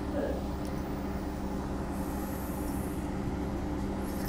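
A steady low rumble of a passenger train in motion near Perth, Australia, fills the space, with a constant mechanical hum and faint rail noise, recorded from inside a carriage.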